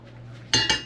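A wok set down on a stove during mie goreng cooking, two quick metallic clanks of pan on burner following a quiet hum.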